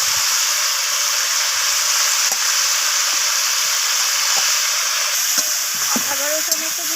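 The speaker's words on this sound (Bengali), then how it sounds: "আবারও সমস্ত কিছু এইভাবে কষিয়ে নিচ্ছি আমি" Fried drumsticks and bitter gourd sautéed with salt in a pan, a loud, dense, hissing sizzle holding steady throughout, with a few utensil scrapes near the end.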